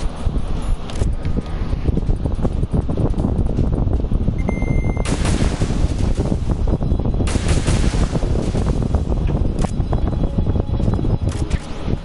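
Sustained rapid gunfire from the video game Metal Gear Solid 2, dense bursts of shots continuing loud and close throughout with a rough, noisy wash behind them.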